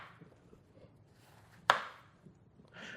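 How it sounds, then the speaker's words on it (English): A knife cuts into an orange with a single sharp, close chop, standing out briefly over quiet kitchen ambience, followed by faint handling sounds. "So now I'm going to use my knife."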